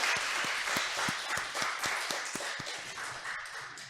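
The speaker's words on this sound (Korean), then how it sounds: "박수 한번 치겠습니다." A church congregation claps together in a steady burst of applause, close and fairly loud, with a rhythmic beat under the clapping that fades out near the end.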